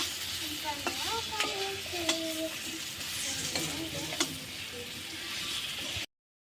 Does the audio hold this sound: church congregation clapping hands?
no